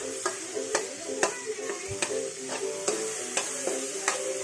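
Soft tomatoes are stirred in a sizzling pan, a steady low fry with regular sharp scrapes and taps of the utensil roughly every half second.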